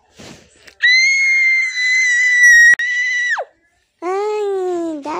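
Girls scream in long, loud, piercing bursts, one after another with short gaps, the last dropping lower in pitch.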